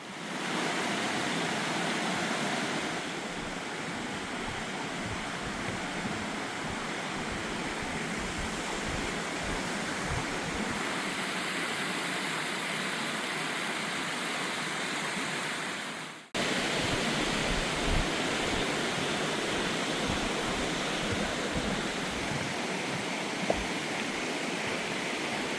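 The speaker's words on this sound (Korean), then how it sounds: "출렁다리 아래에는 어김없이 시원한 계곡이 반겨줍니다" Cool mountain valley stream rushing beneath a small suspension bridge on a national park trekking trail, a steady broadband roar of water, close and constant, with a brief dip midway; no voices.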